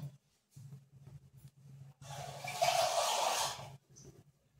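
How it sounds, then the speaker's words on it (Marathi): Water is poured into thickened vermicelli kheer in one steady rushing splash lasting almost two seconds. A low hum runs underneath, with a few soft clicks before and after. "थोडीशी घट्ट झाली म्हणून थोडंसं पाणी ऍड करणार आहे मी"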